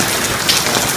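Rain pours down steadily in a dense, even hiss of drops hitting surfaces, loud and close, with no voices.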